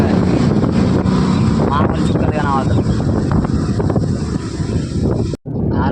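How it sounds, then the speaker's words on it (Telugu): Loud, continuous strong wind buffeting close up during a bicycle ride, roaring and rumbling throughout, with a voice faintly audible beneath it before a brief cut near the end. "ఇది ఘోరంగా గాలి వస్తుంది"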